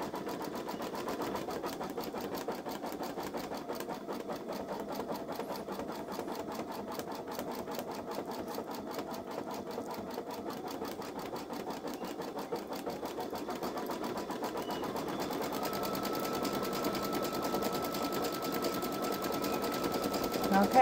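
A Babylock Solaris Vision embroidery machine stitches out a letter L with a fast, even, rapid needle tapping that continues steadily for a long stretch, close and moderately loud.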